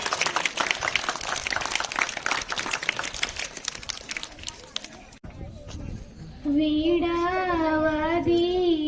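Children at a Republic Day program applaud a performer on stage with several seconds of dense clapping, which stops before a sustained sung melody with instrumental backing begins.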